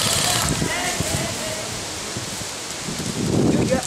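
Wind gusts across an outdoor airsoft field in Minnesota, a steady broadband rush buffeting close to the microphone and swelling louder near the end, with faint voices beneath it.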